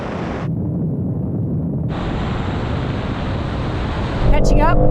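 BMW M3 cars, from the E30 to the G80 generations, launching side by side in a drag race with wheel spin: a loud, steady roar of engines and tyres under wind buffeting, swelling louder near the end.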